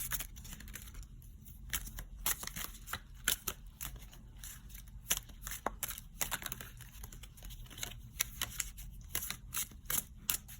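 Rapid crisp clicks and flutters from a deck of cards being shuffled, close by, in repeated bursts over a low steady hum, with no voices.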